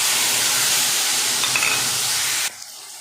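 Paste of ginger, cumin and green chili hitting a hot pan, a loud steady sizzle and hiss that cuts off abruptly near the end, leaving a faint background.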